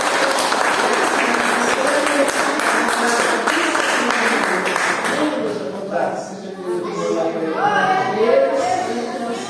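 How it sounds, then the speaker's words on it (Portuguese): Applause in a Portuguese-speaking church service, a congregation clapping loudly and densely for several seconds before it thins out under a speaking voice. "Palmas para Jesus."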